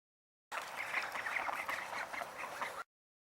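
A duck quacks in a quick run of nasal calls, close and clear, with nothing else behind it.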